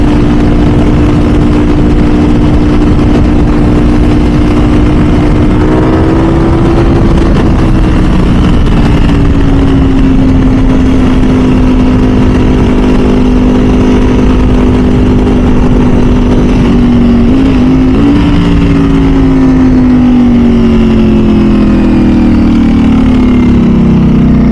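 A 2024 Ducati V4 SP2 916 motorcycle hums at steady speed while being ridden, with the engine tone sliding slightly up and down over a constant roar of wind and road noise.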